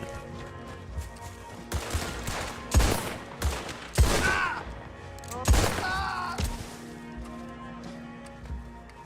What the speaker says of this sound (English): Why are all these people shooting at me, man?